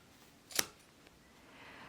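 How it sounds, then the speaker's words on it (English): A single crisp snip of scissors cutting through a bundle of yarn strands wound on a board for rag doll hair, one quick close cut in a quiet room. "get a grip, and then cut"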